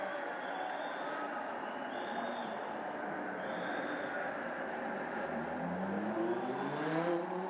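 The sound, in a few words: Lamborghini Super Trofeo Asia race cars driving down the pit lane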